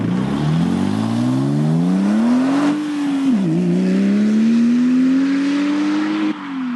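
A Porsche 996 Turbo revs through an aftermarket exhaust with a rising, droning note, dips briefly, then climbs again, loud and close throughout.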